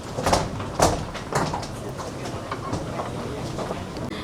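A metro train at a station platform, a few sharp sliding-door bangs and clunks early on, then a steady rumbling hum of the train as it sits or pulls away.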